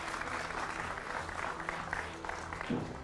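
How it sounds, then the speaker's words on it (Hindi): Studio audience clapping to welcome guests on a Hindi TV debate show, a steady, moderately quiet patter of hands lasting about three seconds with a voice briefly over it. "जोरदार तालियों से स्वागत"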